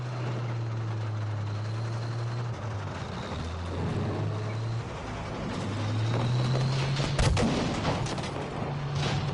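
Battlefield V gunfire in a World War II combat scene: scattered shots and sharp bursts over steady rumbling engine drone, growing busier and louder toward the end, with no speech over it.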